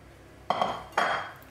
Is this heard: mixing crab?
yes